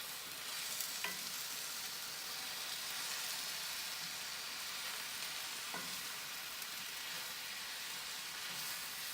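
Stuffed pepper filling with wilting spinach being stirred in a frying pan, a soft, steady sizzle with occasional faint scrapes of the spoon, quiet and without talk.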